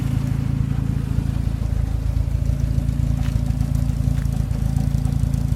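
An older carbureted car engine idles steadily, a low continuous rumble with an even pulse, close and unbroken throughout with no talking.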